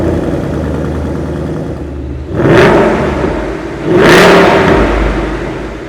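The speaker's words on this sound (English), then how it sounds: "The sound of V8's exhaust growl is oral nirvana" A Ford Mustang GT Premium V8 exhaust blips twice over a low idle rumble, each rev swelling loud and close before settling back, with no one speaking.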